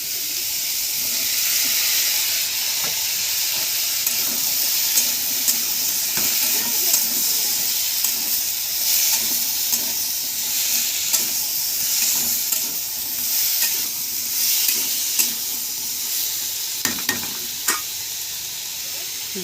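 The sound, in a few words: cut potatoes added to pan, frying and being stirred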